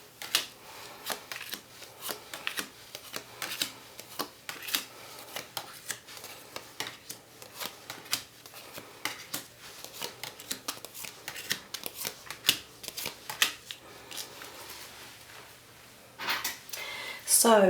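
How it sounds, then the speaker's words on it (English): Tarot cards being laid out and handled for a monthly reading, a steady run of close, soft card snaps and slides throughout, with a person talking over them. "So let's lay out the cards and see what's in store for you guys for June 2016."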